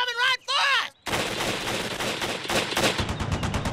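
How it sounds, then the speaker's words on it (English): Gunshots in a South Park cartoon hunting scene; after a brief whistling sound, a rapid burst of loud, close shots crackles continuously for nearly three seconds. "Nice shoot, Teddy! Here, you need a bigger gun."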